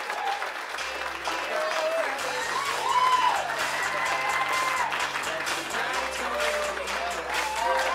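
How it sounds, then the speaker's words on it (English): Wedding reception guests applaud the flower girl and ring bearer with sustained, dense clapping from a crowd. Voices are heard over the clapping throughout. "Make a nice round of applause for our flower girl and ring bearer, Brittany and Trenton."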